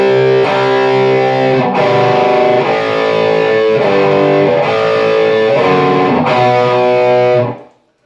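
Heavily distorted electric guitar plays an interlude: loud, sustained power chords changing every second or so, then ringing out and fading at the end.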